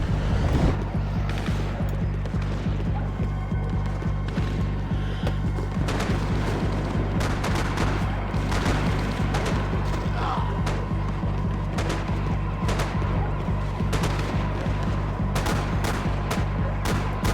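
Bursts of gunfire ring out while shooting at police in Max Payne 3, with rapid shots and sharp cracks scattered over a dense, loud game soundscape under a continuous low drone.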